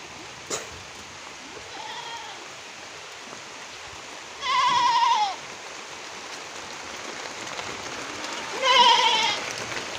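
Two separate goat bleats, the second fuller, over a steady hiss of rain in the background at a goat farm.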